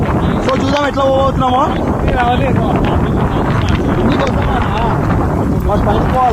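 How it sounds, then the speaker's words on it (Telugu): Strong wind blows hard across an outdoor hillside near a tree, a continuous loud roar and buffeting on the microphone that runs beneath someone talking throughout. "గాలి మాత్రం డేంజర్ వస్తుంది"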